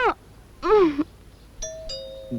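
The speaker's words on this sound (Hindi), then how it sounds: "अरे घंटी बज रही है।" A home doorbell rings with two quick chimes, clear and fairly close, following short bursts of a person's voice.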